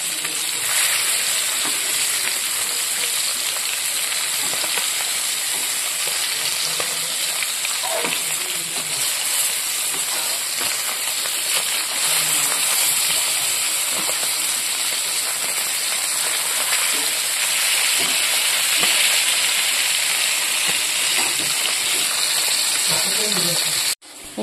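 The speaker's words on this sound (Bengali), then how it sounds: "আর এদিকে কিন্তু আমি মাছটা ভাজার জন্য বসিয়ে দিয়েছি" A piece of fish rubbed with salt and turmeric fries in a pan, making a continuous, dense, rain-like hiss and spatter that holds steady and fairly loud from start to end.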